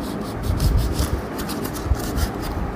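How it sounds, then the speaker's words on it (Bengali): A knife slices through a Mi Bao dragon fruit with close, soft rubbing and scraping strokes, a few slightly firmer pushes standing out. "প্রথমে আমি মিবাওটা কাটছি।"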